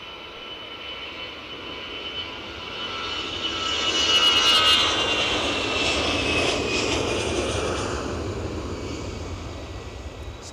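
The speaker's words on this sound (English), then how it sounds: "EasyJet rolling." An EasyJet airliner on its takeoff roll, a jet engine roar swelling from moderate to loud midway, then holding as a broad rushing whine.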